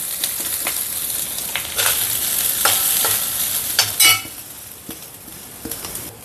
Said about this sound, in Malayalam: ആ എണ്ണയ്ക്കകത്തോട്ട് തന്നെ നമുക്ക് ഈ തേങ്ങായും കൂടെ കുടഞ്ഞിട്ട് വറുത്തെടുക്കാം